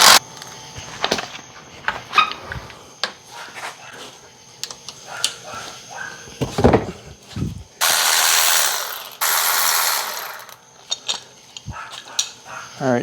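Ratchet wrench loosening 17 mm mount bolts at the front of a Honda Element during FWD manual transmission removal, heard as two sustained close bursts of rapid clicking amid scattered clanks and handling noises.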